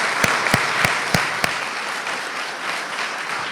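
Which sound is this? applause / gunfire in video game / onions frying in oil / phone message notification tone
applause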